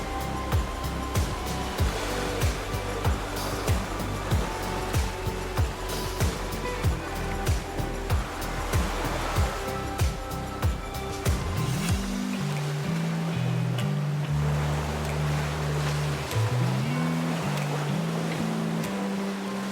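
Ocean surf washes steadily on a beach during a horse ride, a broad continuous rush with rhythmic thuds in the first half and a lower droning tone later.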